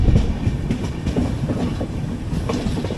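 A heavily loaded goods train of limestone-filled box wagons rolls past close by, a steady loud rumble with rhythmic clickety-clack of wheels over rail joints throughout.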